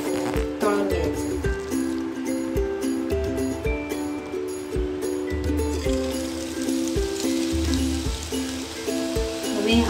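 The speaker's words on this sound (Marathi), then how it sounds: "आपलं हे पीठ मिक्स करून झालेलं आहे आणि आपण आता याची भजी तळून घ्यायची" Cabbage pakoda batter made of kobi and flour fries in hot oil with a continuous crackling sizzle, joined by intermittent clinks and scrapes of utensils, close up and fairly soft, with occasional speech.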